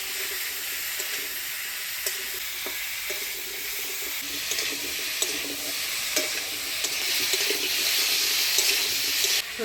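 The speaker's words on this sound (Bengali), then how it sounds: "হলুদ লবণ দিয়ে নাড়াচাড়া করে নিলাম।" Vegetables with turmeric and salt stirred in a pan, with soft scraping strokes over a quiet sizzle at close range and some splashy, watery texture, and no talk.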